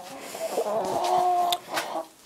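Chickens clucking inside a hen pen and coop area, several birds close by with short overlapping clucks and calls over about two seconds, moderately loud.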